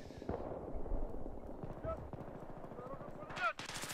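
An M60E4 machine gun fires in Battlefield 3 at Grand Bazaar, rapid dense bursts of gunfire rattling steadily throughout, with a sharp louder crack of shots near the end.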